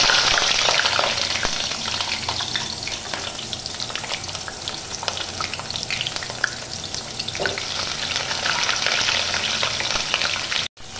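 Onions frying in hot oil in a wok make a loud, continuous close-up sizzle with a crackling texture throughout and occasional stirring scrapes, with no talking.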